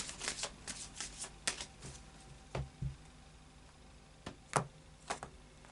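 Oracle cards being shuffled, a series of quick riffling flicks and soft slaps, close and fairly quiet, with no voices.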